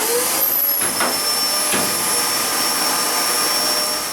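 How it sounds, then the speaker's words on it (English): A vacuum cleaner roars steadily up close as it hoovers built-up lint out of a tumble dryer during a vent hose service, a loud, unbroken whine with no talking. "you want to get a vacuum cleaner and hoover all this out"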